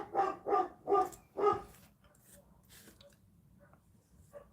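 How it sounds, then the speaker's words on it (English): A dog barks four times in quick, evenly spaced succession at someone passing the house, fairly close, then falls quiet while faint indoor sounds continue. "There is a dog just passing the house, so it's not very happy."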